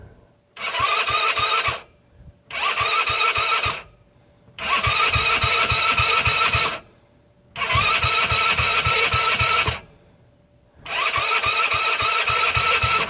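Five separate attempts to start a Hammerhead R150 engine fitted with a new cylinder and piston: loud, close bursts of cranking and rough, sputtering running, each a few seconds long, split by short silences. No one speaks.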